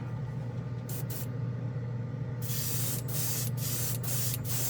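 An airbrush sprays OdenKan chrome paint over black in short hissing bursts: two quick brief puffs, a pause, then a longer sustained spray with several brief breaks, close and loud over a low steady compressor hum.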